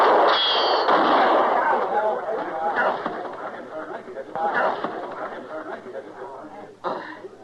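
A gunshot cracks out in an old Western radio drama from the Gunsmoke series, a sharp burst set among people talking.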